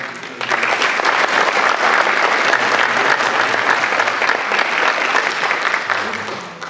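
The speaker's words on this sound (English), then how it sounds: "give Paul Dietzel and Bill Broad a huge round of applause" A crowd at a middle school open house breaks into loud, sustained applause after a short quiet moment, a dense even clatter of clapping that fades a little at the end.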